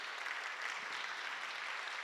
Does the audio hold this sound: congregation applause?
yes